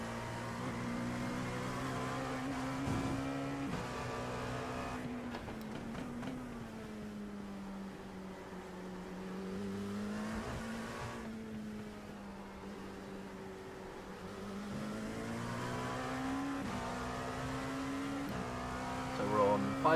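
Race car engine on the Sebring circuit in a racing video game, holding a steady high drone whose pitch rises and falls with gear changes, with a voice talking over it.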